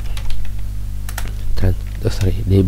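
Rapid typing of code on a computer keyboard, quick close keystrokes beneath a low hum, with someone talking over the later part.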